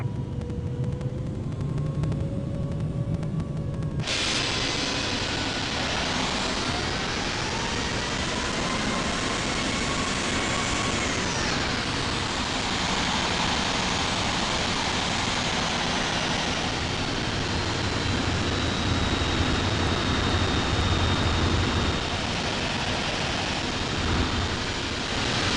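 A Turkish airliner jet taxis at Heathrow, a continuous loud whining turbine roar that rises and shifts in pitch as it moves, steady and unbroken throughout with no voices.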